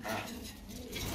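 Pigeons at a dealer's loft offering pairs of domestic pigeons coo softly in low, murmuring tones. The sound is steady and close through a brief moment, with no speech.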